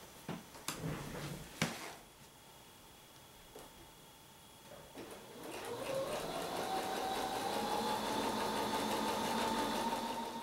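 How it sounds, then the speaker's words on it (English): A sewing machine stitches quilt block pieces down the edge, starting with a few scattered clicks and taps before settling into a steady, close whirring hum that holds to the end. "we're going to stitch all the way down the edge of those"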